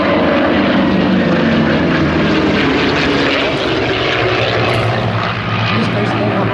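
A Merlin-powered Hispano Buchon, the Spanish-built Me-109 warbird, roars loud and close with a deep, continuous piston-engine and propeller drone. A commentator's voice runs over the engine noise.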